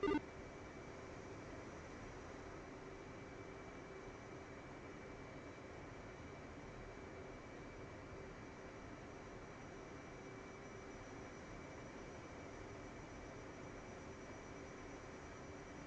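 F/A-18C jet taxiing in a flight simulator, a steady low engine rumble with a faint constant whine, even and unchanging throughout, no voices.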